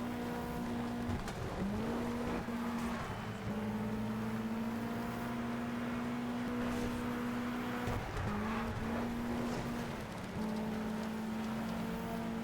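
A front-wheel-drive Volkswagen Golf rally car races in Sega Rally Revo, its engine holding a steady high drone with brief gear-shift dips and tire noise over loose surface, loud and continuous throughout.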